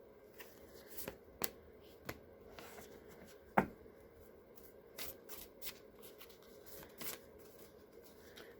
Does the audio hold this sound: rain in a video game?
no